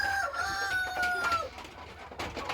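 A rooster crows once, a drawn-out call heard at moderate distance over faint background noise.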